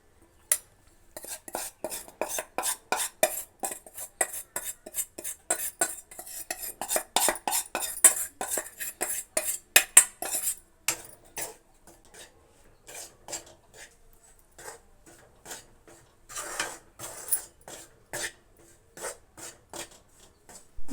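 Wheat flour roasted in ghee in a pan for halwa, a long run of rapid, rhythmic scraping strokes as a spoon stirs against the metal, steady at first, then sparser and more irregular near the end.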